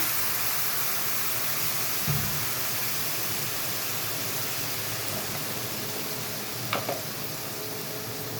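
Water goes into a hot pan of turmeric for a small-fish sour dish, raising a steady broadband sizzling hiss that runs unbroken throughout with only a couple of faint knocks.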